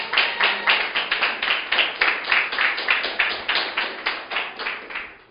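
A church congregation claps during a worship service, a dense crowd of hands beating in a steady, rhythmic pattern for about five seconds before fading out.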